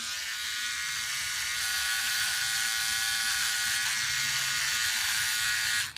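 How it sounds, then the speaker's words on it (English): A OneBlade electric shaver buzzes with a steady high-pitched hum, running continuously up close before cutting off at the very end. "You hear that blade? Do you hear that blade?"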